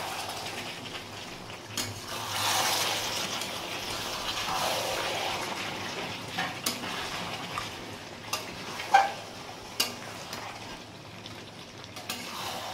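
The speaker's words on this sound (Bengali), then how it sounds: "এবার আমি আবার এটা কষিয়ে নেব।" A tomato ketchup mixture sizzles steadily in a pan while being stirred and sautéed, a constant frying hiss with a few light clicks and taps of the utensil near the end.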